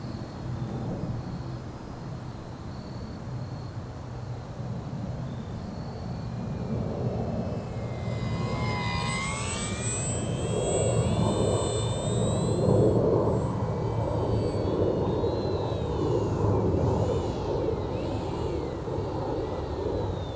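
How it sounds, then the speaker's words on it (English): An FMS 1220mm Ranger radio-controlled electric model airplane on floats flies overhead, its motor whine rising and sweeping in pitch as it passes, heard over steady background rumble. "the Ranger is really a fun airplane to fly."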